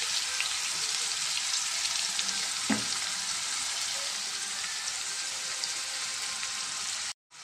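Onions and green chillies frying in a pan for a curry, giving a steady, close, fairly loud sizzle throughout, with one brief clink of a utensil partway and a sudden cutoff near the end.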